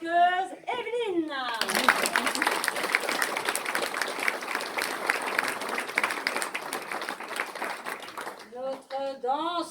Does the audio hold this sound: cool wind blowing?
no